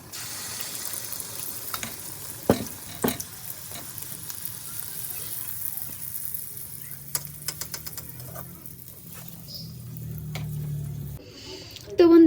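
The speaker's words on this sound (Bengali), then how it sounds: "তো এরকম করে প্রত্যেকটা পিঠা আমি ভেজে নেব।" Malpua, also called chandsa pitha, fry in a pan with a soft, steady sizzle and occasional sharp crackles, while a person talks over it.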